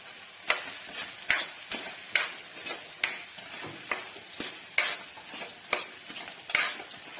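Green chilies frying in a pan for mutter paneer curry, stirred with a utensil: a steady sizzle under regular scraping strokes, about two per second, close and clear with no talking.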